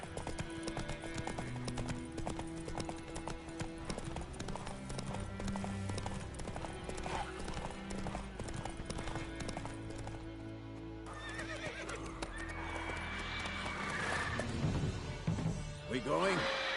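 Hooves of Roach, the horse in The Witcher 3: Wild Hunt, pound in a rapid gallop over layered game music, with loud neighs and a rising, busier clatter toward the end.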